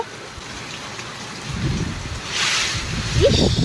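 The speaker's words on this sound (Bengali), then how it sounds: "বাবারে বাবা কি মেঘ ডাকছে বৃষ্টি পড়ছে ওরে বাবারে বাবা বিশাল বিশাল জোরে বৃষ্টি হচ্ছে" Heavy rain during a thunderstorm, a dense hiss of falling rain with low rumbling thunder swelling in the second half, recorded close and fairly loud with no talk.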